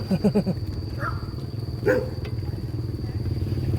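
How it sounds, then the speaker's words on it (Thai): A dog barks in a quick burst of several yips along a town street in Vientiane, Laos, over steady traffic and engine rumble, with someone talking nearby. "ตัวนึงเห่าแล้วเห่าอย่างเดียว"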